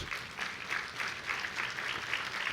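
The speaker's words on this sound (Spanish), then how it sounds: "Dale un aplauso a Jesús." A church congregation claps together in a short, steady burst of applause, even and continuous throughout with no voices standing out.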